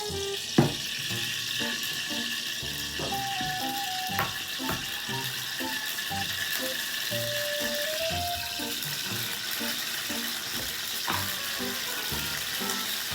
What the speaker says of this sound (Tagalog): O, ayan, magpiprito na tayo ng itlog.